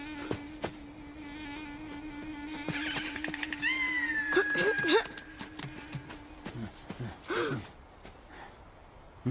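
A cartoon cat lets out a few drawn-out, wavering meows in the middle of a busy animated scene, set over a steady background hum and scattered clattering effects.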